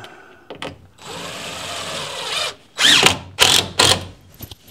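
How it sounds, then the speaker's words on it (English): A power drill drives screws into wall channels during a patio conversion, giving a sustained whir followed by several short, loud bursts of drilling with brief gaps between them, close by and without talk. "Try to put screws in these channels when I can."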